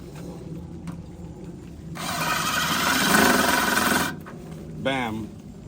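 A power tool cuts excess material off a gutter guard outdoors in one loud, harsh two-second burst, and a voice follows shortly after.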